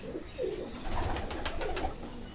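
Pigeons of the Kale chapdar breed, a breeding pair, give repeated soft, low cooing calls close by, with brief louder bursts, and no one speaks.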